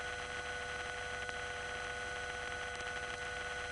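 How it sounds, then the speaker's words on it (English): Old electromechanical telephone network ringback heard between rings: a steady blend of a low tone and a high tone, held continuously at a moderate, unchanging level over faint line hum. "That's a combination of low tone and high tone, always a pleasant thing to hear in the old network."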